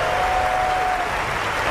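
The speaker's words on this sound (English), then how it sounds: "Applause for Federer." A tennis crowd applauds Federer, a dense, steady burst of clapping filling the short moment with no voices over it.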